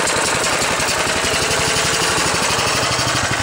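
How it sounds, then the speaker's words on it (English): A rough-running Honda engine powering a homemade generator, its carburetor in need of a rebuild, throbs loudly and continuously at close range with a fast, uneven pulsing beat and no voices. "this Honda doesn't really run that great"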